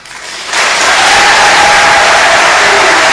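A large crowd bursts into loud applause for the President at a Congolese gathering, a sudden roaring swell of clapping that starts abruptly and holds dense and steady, close and full.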